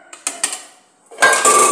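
A metal ladle scrapes and clinks against the inside of a pressure cooker while puliyogare tamarind rice is stirred: a few quick clanks, a pause, then a louder stretch of grating metallic scraping.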